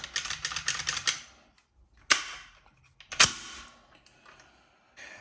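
A 1943 PPSh-41 replica mock-up clicks and rattles with a quick series of mechanical clacks, then two sharp isolated snaps of the trigger and safety, close and fairly quiet.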